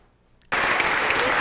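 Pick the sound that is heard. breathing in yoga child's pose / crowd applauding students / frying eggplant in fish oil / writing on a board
crowd applauding students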